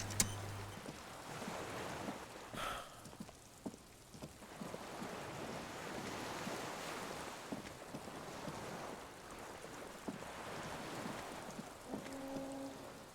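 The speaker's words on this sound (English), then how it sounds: "The skiff is swaying on the waves by the dock." A skiff swaying on the waves by a dock in the video game Disco Elysium, with soft continuous water wash and wind hiss, faint and steady, no voices.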